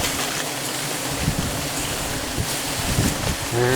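Strong wind roars steadily across the microphone outdoors, a dense continuous rush with a few low thumps and a brief tonal sound near the end.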